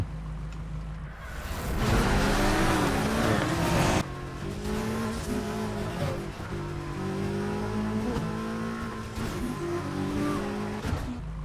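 Racing cars in Need for Speed Heat roar with steady, loud engine drone, rising revs and shifting gear tones, joined by tire squeals and skidding throughout, with no talking.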